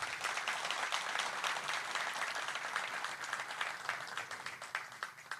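Sustained audience applause fills an awards ceremony for journalists of the year held by a journalists' association in Antalya, a dense, steady wash of many hands clapping throughout.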